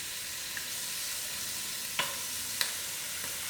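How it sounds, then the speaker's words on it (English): Lamb meat sizzling and frying in a pot with spiced masala, a steady faint hiss throughout with a couple of sharp crackles and pops near the end. "I'm going to add in my meat."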